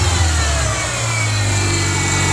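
A 1997 Ford Ranger with a 2.3L engine that has an erratic misfire runs steadily, a loud, close, continuous low rumble without any pauses or voices.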